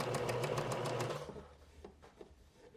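A sewing machine top stitches a double-turned flutter sleeve hem on a sun top with a long stitch length, humming in a quick, steady rhythm up close before stopping, followed by faint handling clicks.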